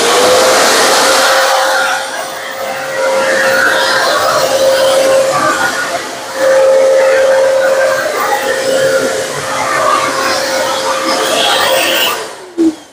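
A vacuum cleaner switched on runs with a loud, steady whirring hum and a thin whine on top, holding nearly constant for several seconds before cutting off near the end.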